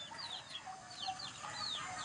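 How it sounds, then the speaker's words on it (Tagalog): A flock of chickens, including chicks, on a farm in the Philippines clucks and peeps in overlapping bursts, moderately close and fairly soft, with no talking. "Marami akong manok dito."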